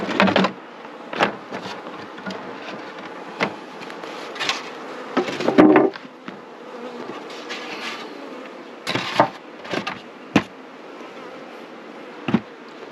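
Honey bees buzz inside a large, double-brooded nucleus hive, a close, steady droning hum with louder surges and sharp rustling knocks as the hive is handled.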